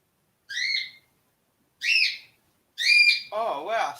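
A pet bird gives three separate clear whistled calls, close and fairly loud with short pauses between them, then breaks into a warbling trill right after the third.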